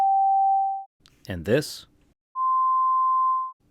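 Synthesized pure sine tones representing a vibrating string's overtones play as two steady electronic beeps, the second higher and longer, with a brief spoken phrase between them.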